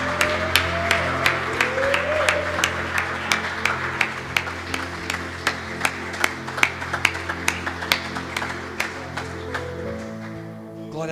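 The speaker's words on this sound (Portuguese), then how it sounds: "Aplauda ao Senhor." A church congregation claps along during worship, sharp rhythmic claps repeating steadily over sustained music and singing, loud and continuous throughout.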